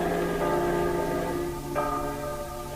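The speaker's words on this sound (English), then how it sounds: "the bells you hear are ringing to warn the people to evacuate the city" Church bells ring out as a warning to evacuate a city in a radio drama, a steady sustained bell tone with overlapping ringing partials filling the clip, moderately loud and without speech.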